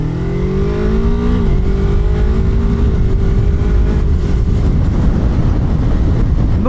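A Yamaha R3 motorcycle on a highway slows from about 110 to 80 km/h for a curve, its steady engine drone dropping slightly in pitch as it decelerates under constant loud wind rush.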